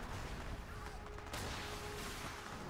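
Artillery barrage pounding enemy structures and defense towers in the strategy game Rise of Legends, a dense, continuous rumble of distant blasts with a sharper burst midway, steady and loud throughout.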